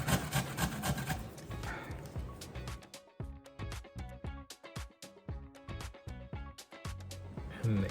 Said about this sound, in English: Now grate our ginger.